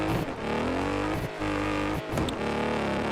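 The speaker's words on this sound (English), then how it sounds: "Car's a little loud." A racing video game car engine drones loudly and steadily in the foreground, its pitch rising with acceleration and briefly dipping at gear shifts, with no talk over it.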